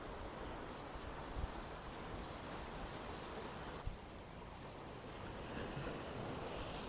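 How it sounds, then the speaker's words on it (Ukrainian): Steady wash of sea waves rolling in with gusty wind noise, a continuous broadband roar with no voices. "чути ці чудові шуми моря"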